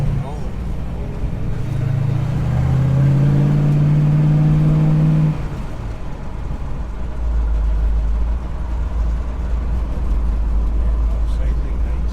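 A 1960s R-code Mustang V8 with freshly fixed brakes runs at a steady idle, a loud low rumble that rises in a brief rev midway before settling back, with people talking over it.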